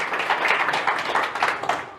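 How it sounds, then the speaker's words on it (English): An audience gives a burst of clapping that runs steadily and fairly close for a couple of seconds. "So please give her a massive round of applause."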